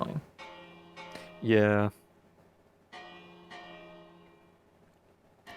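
An in-game bell in the modded Minecraft Vault Hunters rings in several separate strikes, each chime decaying slowly, with a voice briefly speaking between them.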